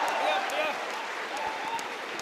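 Audience applause at a Hindi hasya kavi sammelan poetry recital, a dense steady wash of clapping from a crowd, fairly even throughout with no voice over it.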